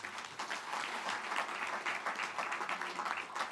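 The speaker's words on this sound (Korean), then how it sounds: "지금까지 정견 발표해 주신 두 분 후보자께 큰 격려의 박수 부탁드립니다" Applause in a hall for two candidates at a Democratic Party floor leader election, a dense, even wash of many hands clapping at moderate distance, continuing steadily throughout.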